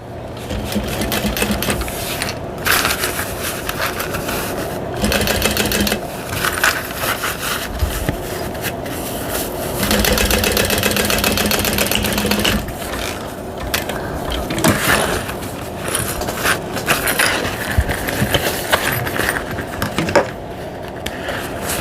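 A sewing machine runs long, steady bursts while topstitching a Howie bowler bag, the loud mechanical whir close up, pausing and restarting several times, with no talking.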